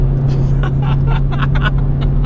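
A Dodge Hellcat engine drones from inside the car while driving, a loud steady low hum with repeated brief rushes and thumps over it, with no speech.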